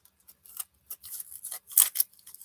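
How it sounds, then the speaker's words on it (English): A knife cutting up an onion, partly spoiled with bad bits trimmed off, giving a series of short, crisp slicing snips that come irregularly and close, with a few louder cuts in the middle and no talking. "I gotta cut up this onion"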